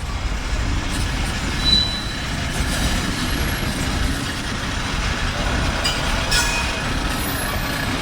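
A BNSF freight train rolls through rail switches with a steady, loud rumble of wagons and wheels and faint thin squeals overhead, continuous with no talk.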